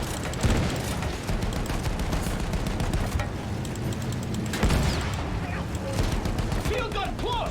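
Battlefield 1 field guns fire close by in heavy booming blasts, with loud salvos at the start and again midway, over a constant din of battlefield gunfire and rumble.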